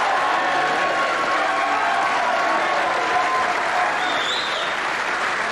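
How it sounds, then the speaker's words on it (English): Steady applause from a television studio audience during a 1998 Australian football panel show, a continuous dense clapping wash at moderate level with a faint murmur of crowd noise underneath. "Couple of people clapping this week."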